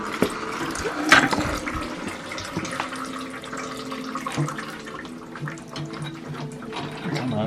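Water splashes and pours steadily from a Ford F100 truck engine into a bucket, a continuous close gurgling and trickling with a few louder splashes and clanks.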